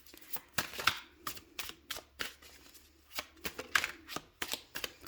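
Tarot cards shuffled by hand in a quiet room, a series of crisp riffling bursts in an irregular rhythm, close and fairly loud, with no talking.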